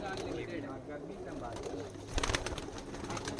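Pigeons, including a white-feathered bird, cooing softly in a loft, low murmuring calls under faint background noise and a voice talking.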